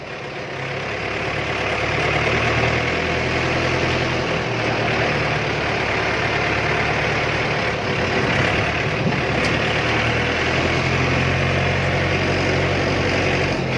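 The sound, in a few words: engine revving hard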